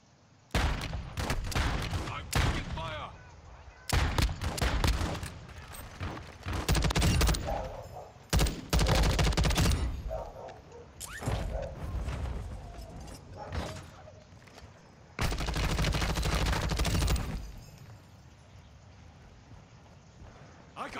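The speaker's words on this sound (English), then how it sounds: "I'm taking fire." Bursts of video game gunfire, close and loud, rattle in repeated volleys with short gaps between them, over a tense mission where the area is held by enemies, with some voices mixed in.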